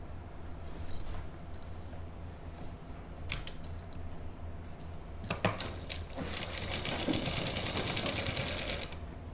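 A sewing machine stitches a lined suit in a tailoring class, with steady mechanical runs and a faster, louder burst of stitching near the end, close and alone.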